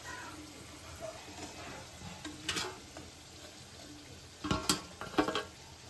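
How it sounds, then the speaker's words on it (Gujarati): Ghari sweets frying in pure ghee give a soft, steady sizzle with a few stirring clatters and louder bursts near the end. No talk is heard. "હવે આને ચોખા ઘીમાં તળવાની છે ને"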